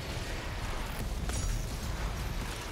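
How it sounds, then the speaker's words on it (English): In the Doom Eternal video game, an Arachnotron's arm cannon is blasted off: a dense, noisy gunfire and explosion mix with a sharp impact burst partway through. "that satisfying hit of just knocking off that cannon on his arm"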